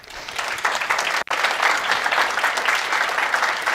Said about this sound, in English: So we want to give a round of applause to them.